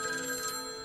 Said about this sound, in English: why would I be hearing a ringing sound in here?